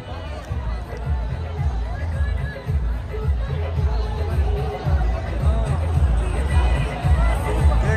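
Dense crowd hubbub at a Khesari Lal stage program, a loud continuous babble of many voices with deep rumbling underneath, steady throughout.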